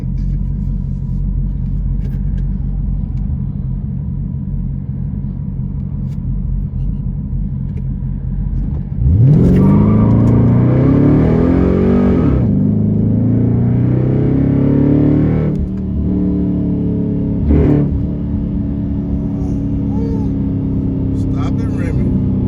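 Car engine revving through old exhaust pipes, a loud, close, rumbling burst of throttle that swells and falls over several seconds over a steady low idle, with a voice speaking around it.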